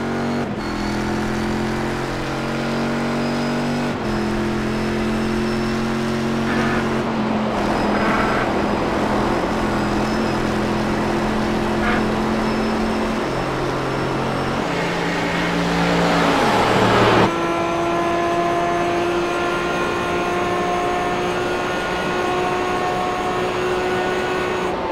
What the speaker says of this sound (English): Let's experience some of these fantastic engine noises for these guys as they continue to